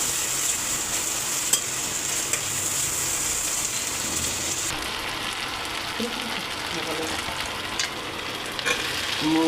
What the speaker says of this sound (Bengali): এই জন্যে উঠতে আলু দিয়ে পেঁয়াজ দিয়ে একটু চচ্চড়ি করি